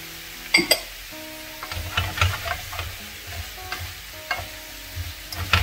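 Apples softening in a buttered pan with lemon juice, a gentle sizzle under repeated stirring scrapes and light clinks of a utensil against the pan, close and moderately loud.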